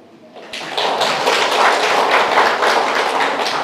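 A church congregation claps hands together, a dense, loud patter of many hands starting abruptly and continuing steadily.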